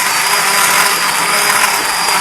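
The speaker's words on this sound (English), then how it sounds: "I'm going to use my hand blender, that's an immersion blender, to puree the onions and garlic into this" Immersion hand blender whirring steadily as it purees onions and garlic into a gravy-like sauce, a continuous close motor drone with no pauses.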